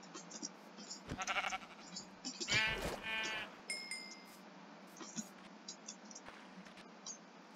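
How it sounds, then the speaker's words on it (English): Minecraft sheep bleat a couple of times at moderate volume, one drawn-out wavering baa standing out, amid soft game clicks and footsteps without speech. "Gray sheep."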